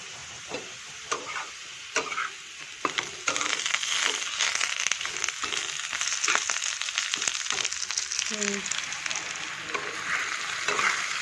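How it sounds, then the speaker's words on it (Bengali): Potatoes sizzle steadily in hot oil while a utensil scrapes and stirs, with occasional clinks and crunchy shuffling sounds nearby. "আলু আর তেজপাতাও দিয়েছি দিয়ে আলুটা ভালো করে ভেজে নিয়েছি"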